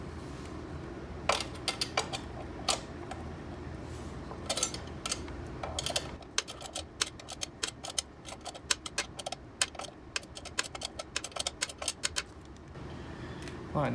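A size 10 wrench works the suspension block bolts on a Dualtron Raptor electric scooter, giving a quick run of sharp metallic clicks and ratcheting ticks, close by over a low background rumble.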